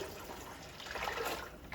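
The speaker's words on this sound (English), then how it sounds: "first thing we're gonna do is dump 3 of these jars back into our canner." Water poured from glass canning jars back into a pressure canner while canning green beans, a short, steady splashing trickle heard close up with no talk.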